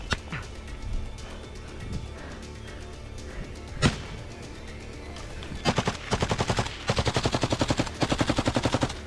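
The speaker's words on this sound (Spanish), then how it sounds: "mantienen su ofensiva con un intenso tiroteo" Intense gunfire in a firefight between Russian forces and elite Ukrainian troops, with scattered single shots and a sharp blast, then rapid sustained automatic bursts in a steady rattling rhythm, loud and close.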